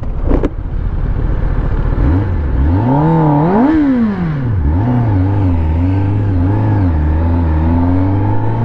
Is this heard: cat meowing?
no